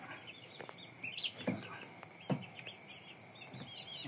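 Hens clucking in a coop of imported Indio Gigante chickens as one is caught, with scattered short clucks and a few soft thumps and scuffles against a steady hum of background noise.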